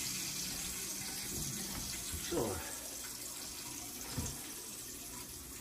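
Tap water runs steadily into a cooking pot in a kitchen while curry stew chicken is being prepared, a continuous gushing fill with a couple of brief clunks, and a voice speaks briefly over it.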